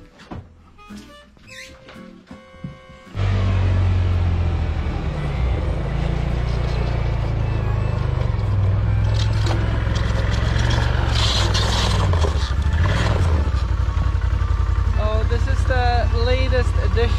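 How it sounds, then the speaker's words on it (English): A tiny snowcat's engine runs steadily and loudly for most of the clip, starting abruptly after a few seconds of quieter clattering outdoor sound. "Latest addition, my tiny little snowcat."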